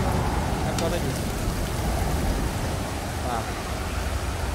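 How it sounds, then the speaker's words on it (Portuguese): Steady rain hissing down in the survival game Stranded Deep, a loud, dense broadband wash that holds constant throughout with no breaks. "Tá alto pra cacete pra essa chuva, hein, mano."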